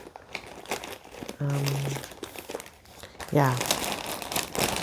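Crinkly plastic packaging rustles in short bursts while coloring a Bob Ross coloring book, close and soft, with quiet talking and pencil scratches around it.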